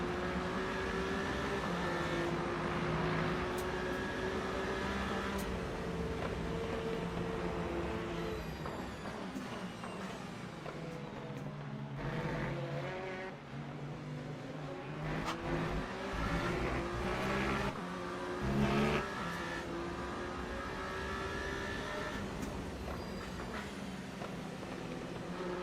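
A hypercar racing at Le Mans in the Le Mans Ultimate racing game, its engine roaring loud and continuous with rising and falling pitch through shifts and corners.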